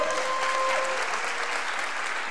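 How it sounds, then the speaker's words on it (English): A church congregation applauds a high school graduate called to the stage. Heavy, sustained clapping from many hands runs throughout, with a faint tone under it and no talking. "You can give a round of applause for Cheyenne."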